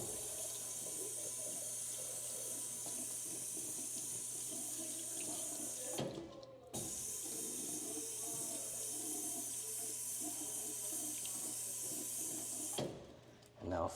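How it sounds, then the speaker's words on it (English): Tap water runs steadily into a bathroom sink while a counter is rinsed off, a continuous broadband splashing that pauses briefly twice before resuming. "At that point, basically just rinse it off"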